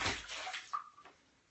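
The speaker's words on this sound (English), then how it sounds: "let's throw it in here, and we'll see how waterproof it is" An Ecoxgear Ecostone Bluetooth speaker is thrown into water, making a brief splash and slosh that fades quickly to quiet lapping, heard alone with no talking.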